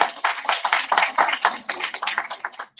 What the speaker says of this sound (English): please have a round of applause, everybody.